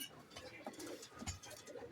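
Pigeons coo repeatedly at close range in a loft where yellow-eyed and white-eyed birds are being paired, their soft throaty calls mixed with faint background voices and rustling.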